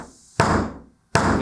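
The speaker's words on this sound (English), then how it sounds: "the standard hard soft hammer is great because it's got the rubberized heads" Two loud, close strikes of a rubber-headed hard soft hammer knocking down a dent, each a sharp thump followed by a short ringing decay, separated by a pause of near silence.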